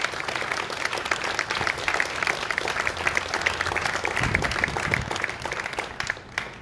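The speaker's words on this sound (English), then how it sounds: "definitely a round of applause" A crowd at a nursing home bill signing ceremony breaks into dense, sustained applause that holds steady for several seconds and fades slightly at the end.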